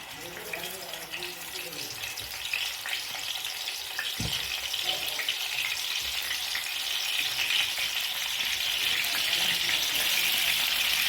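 Stuffed brinjals fry in hot oil, a dense crackling sizzle that grows steadily louder as they settle in, with one sharp knock partway through.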